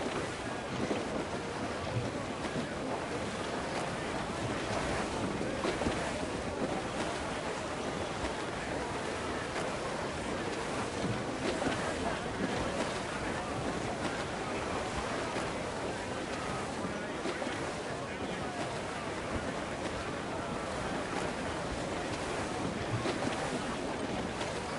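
A sailing ship at sea in the video game Assassin's Creed IV Black Flag, with a continuous broadband rush of wind, waves and hull wash, loud and steady throughout; no clear talk is heard.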